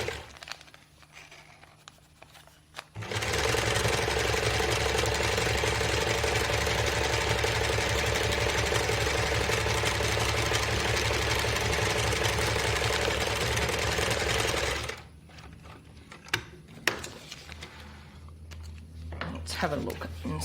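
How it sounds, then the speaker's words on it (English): Sewing machine stitching fabric for foundation paper piecing: a steady, loud mechanical whir running for about twelve seconds, with quieter handling noises before and after. "So I'm sewing just to the inside of my line."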